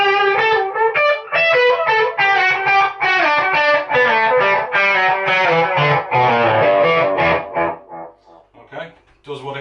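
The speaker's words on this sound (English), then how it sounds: "we got our caverns, so a bit of delay. It's got a bit of a chorusy sort of detuney type effect on the delay there" Electric guitar through a delay pedal with a chorus-like detuned shimmer on the repeats, set on a pedalboard: loud, distorted picked notes run continuously, trailing off into fading echoes at the end.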